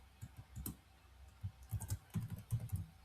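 Computer keyboard typing: quick, irregular bursts of soft, close key clicks with brief pauses between groups of keystrokes, and no voice.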